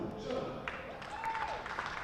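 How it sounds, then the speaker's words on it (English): A cricket crowd at a Hampshire v Northamptonshire County Championship match applauding, a light, scattered clapping from the ground heard faintly under a commentator's voice. "Big applause."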